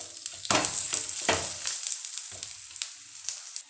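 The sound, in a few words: aloo paratha frying in ghee on a tawa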